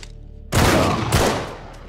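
Pistol fire in the video game Uncharted 3 lands as two sharp, loud, close shots about half a second apart, each trailing off quickly, with no talking over them.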